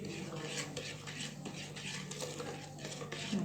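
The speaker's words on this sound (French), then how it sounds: "on va rajouter le beurre, 250 g de beurre avec l'huile et sucre glace. Et on mélange le tout." Butter, oil and powdered sugar are stirred together in a bowl for a Moroccan date-filled cookie dough, producing soft, rhythmic scraping and tapping of a utensil against the bowl, close and moderately quiet.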